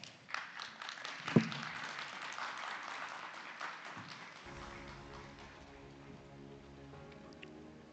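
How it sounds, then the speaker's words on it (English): An audience at a conference on AI and analytics in market regulation claps after a talk, a dense patter of hands that fades into scattered clapping while a low hum rises beneath it, fairly quiet and without speech. "Let's have a round of applause for him."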